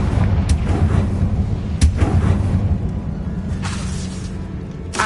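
Confringo fire-blast spells bursting in Hogwarts Legacy, several sharp booming blasts with whooshes over a rumbling low background, loud and close, the strongest hit near the middle and no speech.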